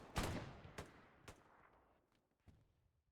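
Gunfire in the World War II shooter Hell Let Loose during an infantry squad battle: four separate sharp shots, each with a short decay tail, spaced unevenly over about three seconds and fairly faint, as if some distance off.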